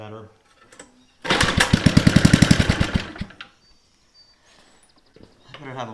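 A small mini bike engine with a carburetor problem sputters into life and runs roughly for about two seconds in a loud, fast, pulsing burst before dying, with a voice talking before and after.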